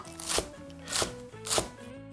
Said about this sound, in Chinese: 清洗过的韭菜，我们稍微把它头部呢比较老的地方，我们给它切掉，切成花儿就好了